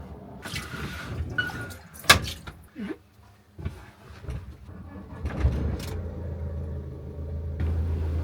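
A van engine idles after exhaust repair, with a steady low rumble after some clunks and knocks, the tone settling into an even, smoother hum toward the end.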